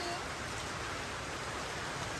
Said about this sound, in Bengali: এই যে বৃষ্টি মোটামুটি নেমে পড়ছে ভালোই বৃষ্টি নামছে